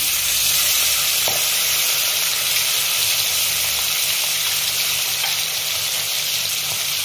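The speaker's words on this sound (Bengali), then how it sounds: "একটু লঙ্কা বাটা দেবো," Chili paste sizzling in a frying pan for a brinjal and hilsa curry, a loud steady hiss lasting throughout, close by, with a faint stir or two and no talking.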